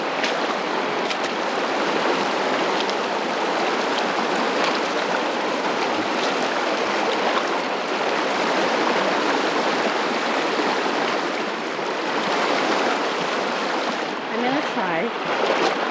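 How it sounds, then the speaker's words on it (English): A raging river at Women Hollering Creek flows in a dense, steady rushing roar that stays constant and close throughout. "Raging River sounds right now."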